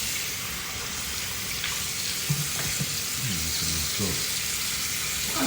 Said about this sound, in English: Now I'm washing my hands.